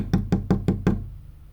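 Five quick, evenly spaced knocks on a door in a Shinchan cartoon ring out loud and close within about a second, followed by a short fading resonance.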